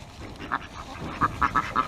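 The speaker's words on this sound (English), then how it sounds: "Look, my ducks are getting pissed off." Several farm ducks quack in short, sharp bursts, one isolated call and then a quicker cluster of four or five toward the end, fairly close over a quiet outdoor background.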